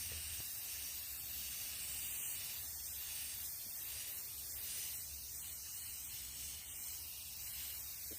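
A charcoal base coat is spray painted onto a Christmas craft frame, producing a steady, quiet hiss that runs without a break from start to finish, with no voices over it.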